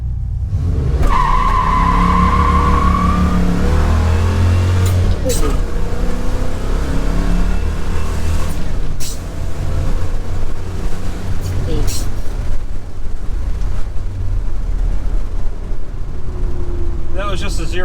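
A car accelerates hard from 0 to 60 on a narrow, hilly road, tested with 3.25 and 3.55 gears. The engine rises loud and close, with tire squeal and skidding noise early on and rushing road noise as speed builds.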